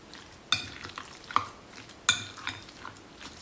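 A metal utensil scrapes and clinks against a bowl while whole milk ricotta is stirred to loosen it, giving a few sharp taps between soft scraping, close by and with no talk.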